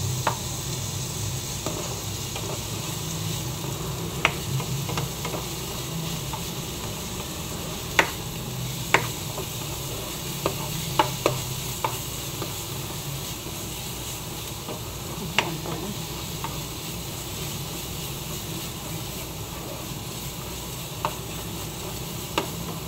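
Garlic, onion and another garlic addition sauté in a pan while crab with coconut is being made, giving a steady soft sizzle with scattered clicks of a utensil scraping and stirring, close and continuous.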